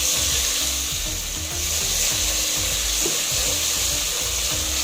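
Onions and crushed garlic fry loudly with pilau masala, a dense continuous sizzle with rough, rhythmic scraping of a spoon through the pan underneath, close and steady throughout.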